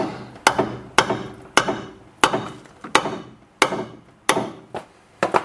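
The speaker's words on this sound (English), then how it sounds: "Quite tight, so hammer will need to be there as well." A hammer strikes metal on a car's front sway bar link in a steady rhythm, about nine sharp blows with ringing decays, close and loud with no voices.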